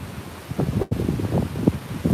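Wind gusts buffet the microphone at Presque Isle State Park, a loud, rough, rumbling roar that keeps surging in uneven bursts with a brief dropout partway through.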